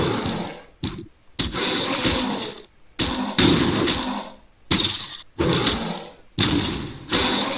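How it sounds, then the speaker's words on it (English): Heavy booming blasts from grenades in StarBreak, a side-scrolling video game, hit about eight times in a row. Each loud, abrupt thud trails into a short roar before cutting off. "Time to spam grenades!"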